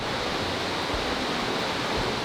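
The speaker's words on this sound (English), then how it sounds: "I want to go and jump in one of their waterfalls that they have here." Broad, steady rushing of water from a waterfall in the Dominican Republic, a continuous dense roar with no breaks, fairly close and even in level throughout.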